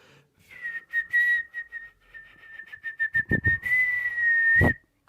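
A slow, wavering whistled tune in steady sustained notes, clear and close, with a few soft thumps partway through and no talking.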